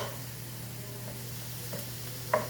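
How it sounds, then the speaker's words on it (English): Ground meat and vegetables brown in a pan, giving off a faint, even sizzle over a low steady hum, with one brief clink near the end. "I'm going to brown this up while I'm cooking the spaghetti squash."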